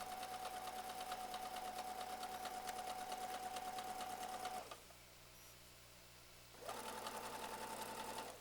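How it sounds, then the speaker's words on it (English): A domestic sewing machine runs steady straight seams while quilt borders are stitched, giving a close, even whirring hum that stops briefly and then starts again. "we can just do straight sewing"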